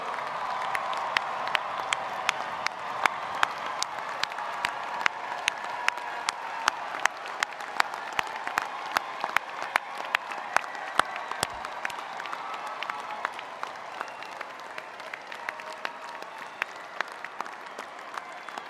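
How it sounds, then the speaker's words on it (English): Steady applause rolls through a university commencement crowd at a School of Social Ecology ceremony. Individual sharp claps stand out over the dense wash, which holds at an even moderate level throughout. "please stand up for a round of applause?"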